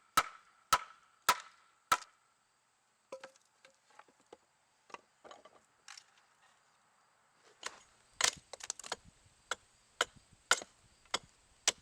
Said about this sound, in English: So right now I'm just splitting the piece down to size